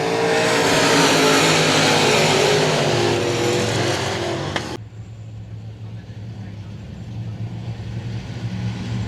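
Race cars roar past down the back straightaway of I-37 Speedway, a loud, dense engine blast that cuts off sharply partway through and leaves a quieter engine drone and crowd ambience.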